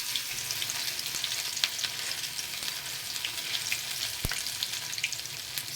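Shrimp fritter (okoy) batter spread thin in hot oil sizzles steadily at close range, with light crackles, a few sharp pops and one brief clack, and no voices.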